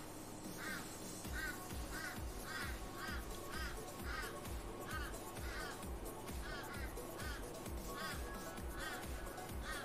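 Crows caw outdoors in Australia: a steady run of repeated harsh calls at an even pace, fairly distant, under continuous talking and background noise.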